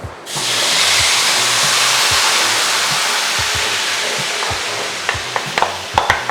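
Cooked beef, simmered in thin coconut milk, is stirred into sautéed masala in a pan for buffalo chaps, making a loud, steady frying sizzle with scraping stir strokes and clinks toward the end, and no talking.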